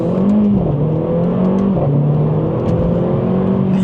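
A Mercedes A45 AMG with very high mileage accelerates hard through the gears, its engine note climbing steadily with brief dips at the shifts, loud and close throughout.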